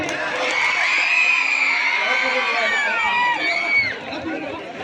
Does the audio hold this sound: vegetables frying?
no